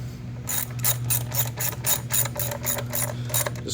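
Ratchet wrench clicking steadily as valve cover bolts are snugged down on a 2004-2008 Suzuki Forenza, a close, continuous run of rapid pawl clicks in short bursts with a low hum beneath.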